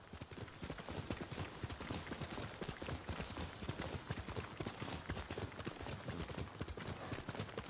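Steady rhythmic hoofbeats of a galloping horse in the video game Ghost of Tsushima, loud and continuous throughout with no pauses.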